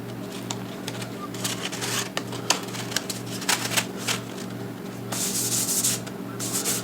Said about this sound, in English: That's for sanding your drywall.